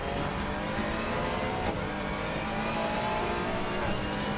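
A GT3 race car engine in a racing video game, accelerating hard on a flying lap, holding a loud, steady high-revving drone from onboard with no one talking.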